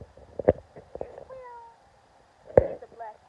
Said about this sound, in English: Here's a black cat.